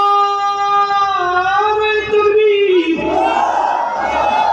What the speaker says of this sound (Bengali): বলেন সবাই আরেকটু জোরে তাকবীর দিও না।